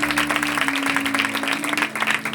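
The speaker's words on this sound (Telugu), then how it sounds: "చప్పట్లు కొడతారు ఒకసారి." A church congregation claps together in a brief, dense burst of applause over a low steady hum.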